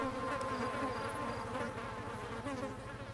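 Bees swarming in an outhouse in the video game Ghost Master make a steady, close, droning buzz that holds for a few seconds under faint background game sound.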